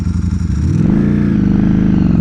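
A Ducati Streetfighter V4 motorcycle engine under way, loud and close, its pitch rising as the bike accelerates into a steady, strong drone with no talking.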